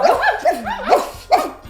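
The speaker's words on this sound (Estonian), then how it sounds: "haukumine erinevates keeltes." A dog barks several times in quick succession, close and clear, with short yelping barks separated by brief pauses.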